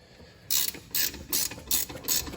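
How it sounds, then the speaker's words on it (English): Ratchet wrench tightening control arm bolts during a lowering spring install on a Fiat 124 Spider Abarth, five quick clicking bursts in a steady rhythm, close and crisp with no talk. "we're tightening down the bolts to the control arms"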